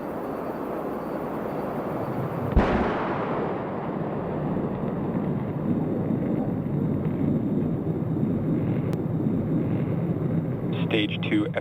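A SpaceX Falcon 9 first stage landing at Landing Zone 1 on the Space Coast after the Crew-8 launch: a sudden sharp onset, then a sustained, heavy, broadband rumbling roar that continues steadily throughout.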